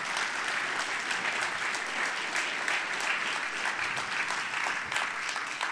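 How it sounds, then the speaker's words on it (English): Sustained applause from a crowd gathered for closing ceremonies, a dense and steady wash of many hands clapping at even volume throughout, with no break. "give yourselves a round of applause"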